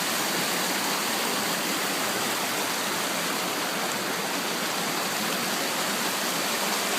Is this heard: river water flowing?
yes